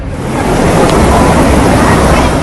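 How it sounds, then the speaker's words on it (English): Flash-flood water rushes in a loud, continuous roar of dense, steady turbulence that is close and unbroken, with no voices over it. "Flash floods."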